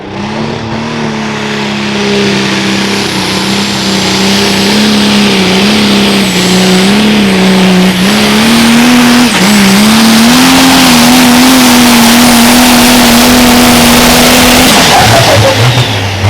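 A loud pro stock pulling tractor engine revs hard at a tractor pull and holds a high, droning pitch that wavers as the throttle bounces, fading off at the end.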